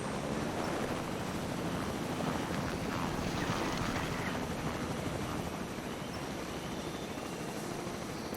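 Helicopter rotor drone in the Jurassic Park Operation Genesis video game, a steady broadband whir and wash holding at even loudness throughout with no talk.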